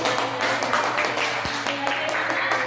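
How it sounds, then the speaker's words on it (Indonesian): A classroom of students clapping hands during a teaching session, a short busy burst of claps heard close and throughout. "Tepuk tangan."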